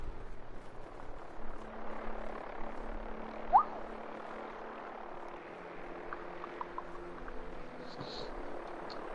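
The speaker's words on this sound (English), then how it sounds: "And what sounds like a helicopter." A steady low rotor-like drone of a helicopter in the video game Fallout 4 runs through the whole stretch, fairly faint and continuous, with a brief sharp spike partway through.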